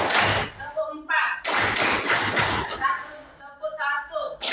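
Hands clap in a classroom clapping game led by a teacher, a group beating out bursts of rapid claps separated by short pauses, with the teacher's voice calling counts between them.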